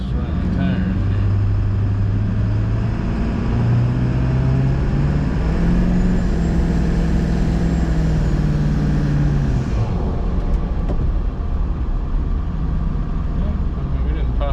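A 7.3 Powerstroke diesel pickup truck spins its tires with a loud, steady engine roar that rises and falls in pitch, heard close from inside the cab.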